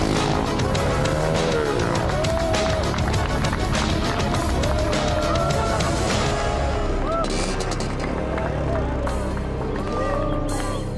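Young riders on motorcycles rush past on a street, engines revving and whining loudly and close, several passes overlapping with rising and falling pitch amid steady traffic roar, while voices talk over the noise.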